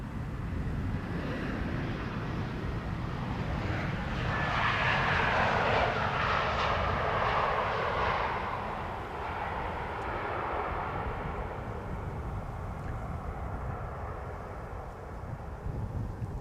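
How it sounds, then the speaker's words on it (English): A Transavia Airbus A321neo landing at Amsterdam Schiphol Airport on a sunny day: a broad jet engine roar swells to a peak midway, then eases off, heard from a distance over steady wind noise. "the Transavia A321neo landing here in the meantime,"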